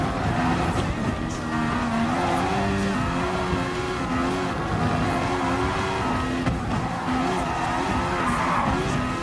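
A Mercedes AMG race car in Gran Turismo Sport holds a steady high engine whine in third gear with shifting harmonics, with faint tire noise throughout and no break in the sound.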